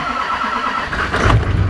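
An old truck's engine cranks and catches, firing up with a brief rising rumble and settling into a low, close idle.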